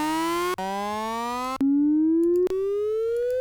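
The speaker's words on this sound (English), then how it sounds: "Let's play with this sine wave." A sine wave riser from the Serum synthesizer plays as a clean pure tone, steadily gliding upward in pitch, restarting with brief clicks in three segments and no talking.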